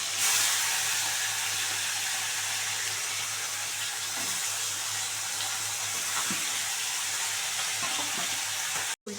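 Tangra fish frying in hot oil, a steady loud hiss and sizzle running for several seconds with faint spattering, ending abruptly, no voices.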